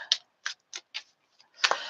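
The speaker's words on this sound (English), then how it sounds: "The cards aren't ready to quit being shuffled, though." Quick papery riffling bursts of tarot cards being shuffled, several short flutters spaced apart, then a longer, fuller burst near the end, close up with no voices.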